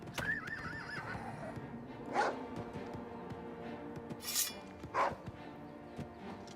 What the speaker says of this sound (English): well, we need to get off the horse.